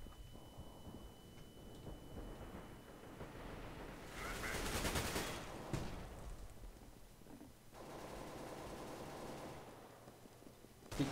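Desert Eagle pistol fire in Counter-Strike: Global Offensive, a few short bursts of shots separated by pauses, fairly faint against the quiet game background.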